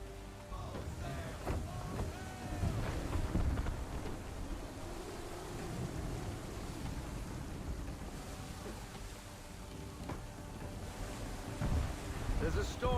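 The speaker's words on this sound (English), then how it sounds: "There's a storm coming," A storm at sea in Assassin's Creed III, steady roaring wind and crashing waves with low rumbles of thunder, a dense continuous wash at moderate loudness.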